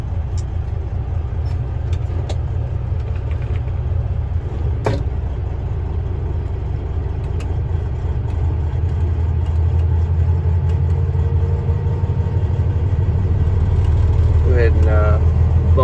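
A 2009 Freightliner Columbia triaxle truck with a 14-liter Detroit engine and 10-speed transmission idles in a low, steady diesel rumble that swells slightly as the revs are raised near the end.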